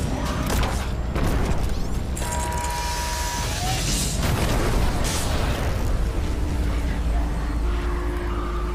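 An angry enemy shooting at the player in the horror game In Sound Mind, heavy booming blasts and mechanical clanks over a constant loud rumble, with no talking.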